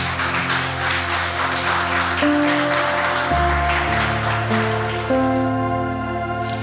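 A church congregation claps steadily for the Lord, the dense, even clapping running under sustained keyboard music throughout, with no voices over it.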